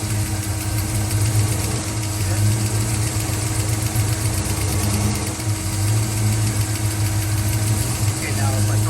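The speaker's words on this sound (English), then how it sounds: "Watch when I barely go on throttle, it bogs down." An engine fitted with Holley Sniper EFI, running lean and bogging down on light throttle, gives off a steady, close, rumbling drone with a constant low hum throughout.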